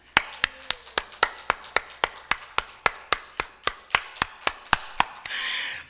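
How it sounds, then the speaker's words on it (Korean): A church congregation at a Friday worship service claps hands in unison in a fast, even rhythm of about twenty sharp, crisp beats, ending in a brief burst of noise. "우리 박수 한번 쳐드립시다."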